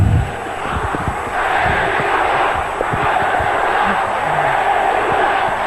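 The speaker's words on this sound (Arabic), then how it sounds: "وسط هتاف وتشجيع واحترام الجمهور كله" A large football stadium crowd roars in a steady, dense wall of cheering and chanting for Egyptian footballer Mahmoud El Khatib, sustained and loud throughout with no clear individual voices.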